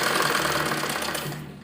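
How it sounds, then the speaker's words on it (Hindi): A sewing machine runs fast and steady while stitching along the elastic edge of a palazzo, its rapid whirring rhythm close and loud before slowing and fading out at the end. "उसके बाद हम यहाँ किनारे पर सिलाई लगाएंगे।"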